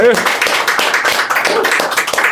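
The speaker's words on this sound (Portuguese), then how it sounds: "Uma salva de palmas pro Cipó." A small group claps to applaud a guest at the close of a podcast episode, a dense patter of hand claps with excited voices and cheering over it.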